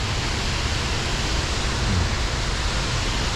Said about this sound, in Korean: 여기서 한번 폭포를 볼까요?